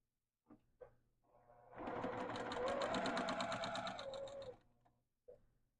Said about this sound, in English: Then I'll just sew a 1/4-inch seam across here again.